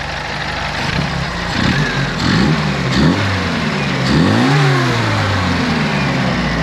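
A Classic Mini engine revs up in repeated rising surges, then settles back toward idle, loud and close with steady engine rumble throughout; the engine has an oil leak.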